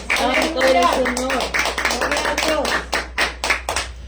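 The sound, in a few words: congregation applauding in church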